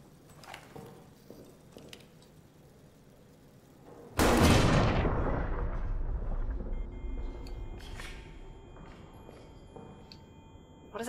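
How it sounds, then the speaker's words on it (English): A loud explosion in the video game Amnesia: The Bunker bursts suddenly out of quiet, scattered game sounds, then rolls into a long, heavy rumble that fades slowly. "I wonder, can I blow up both with one boom?"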